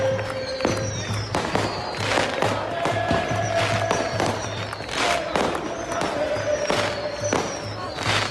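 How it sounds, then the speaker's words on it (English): Rapid crackling bursts and pops of fireworks set off up and down a German street during a celebration, dense and irregular, with bangs echoing nearby and voices faintly underneath. "Fireworks, baby, up and down the street."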